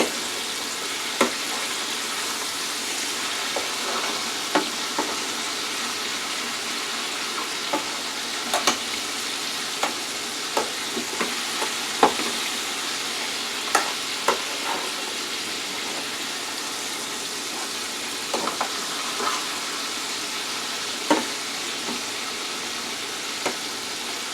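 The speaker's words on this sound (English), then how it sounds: "we're going to let that fry for about 5 minutes and then I'll turn it again" Chicken deep frying in hot oil, a continuous dense crackling sizzle close by, dotted with sharper pops and spits throughout, steady and unbroken with no voices.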